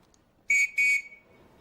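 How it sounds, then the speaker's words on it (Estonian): A sharp, loud whistle used as a call signal, sounded as two short blasts in close succession, near and clear against a quiet room. "2 vilet on tule, 1 vile paigal."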